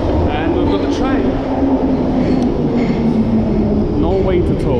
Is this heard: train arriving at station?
yes